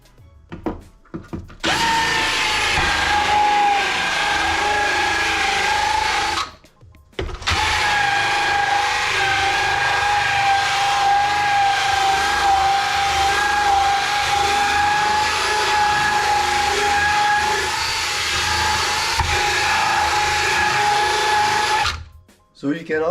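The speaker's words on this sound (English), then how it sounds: "I use the drill here, so it's gonna make some noise." A power drill whirs steadily at high speed, spinning a nylon brush against a snowboard base, pausing briefly once before running again, loud and close.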